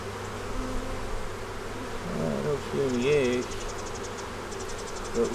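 Honey bees hum around an open double-deep eight-frame hive, a steady low drone with rising and falling buzzes as individual bees fly close past, over a faint outdoor background.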